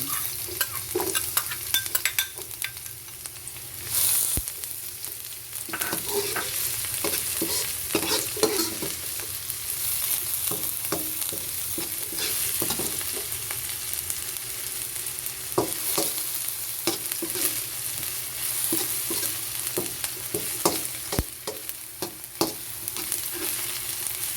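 Onion sautéing in a pan for creamy chicken pastel, with a steady hiss of sizzling oil and irregular scrapes and clicks of stirring, close and continuous throughout with no speech.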